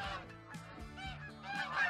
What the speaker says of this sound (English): some geese are landing